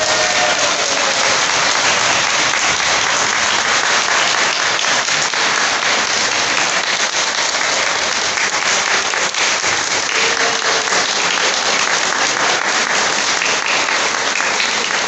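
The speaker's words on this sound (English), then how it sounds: "So let's give Christy a great big round of applause." A crowd at a Fire Service Day event at Los Angeles City Fire Department Fire Station 88 claps steadily, a dense, even patter of applause lasting about fifteen seconds.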